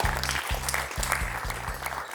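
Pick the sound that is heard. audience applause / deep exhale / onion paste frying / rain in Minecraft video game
audience applause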